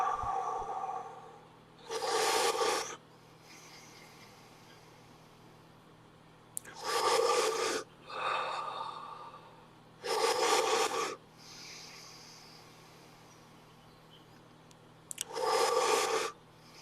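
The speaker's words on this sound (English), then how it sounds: "10 more breaths, similar to that, deeper than before. Deeper inhales, deeper exhales." Deep, forceful breathing during a breathing exercise, with four loud, close breath bursts about a second long each, separated by quiet pauses of several seconds.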